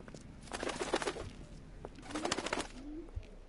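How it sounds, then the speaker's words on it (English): Pigeon-like cooing from a bird in a driving video game, a few soft repeated coos in two short bursts over a low steady background hum, with no talking. "There's only one bird in this entire game."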